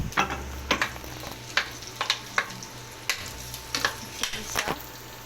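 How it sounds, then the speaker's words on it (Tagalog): Garlic and onion fry in a pan with a steady low sizzle, broken by a series of sharp clicks and scrapes like a utensil stirring against the pan, close and moderately loud with no talk. "We will put the garlic and onion."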